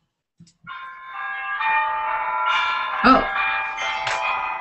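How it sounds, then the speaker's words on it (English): An electronic alarm chime rings continuously in a bright, bell-like tone after a brief spoken exclamation, steady and fairly loud. "that's my alarm going off."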